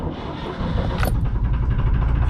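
Narrowboat diesel engine without glow plugs cranking and catching after a key turn, then settling into a steady, loud low rumble that continues throughout.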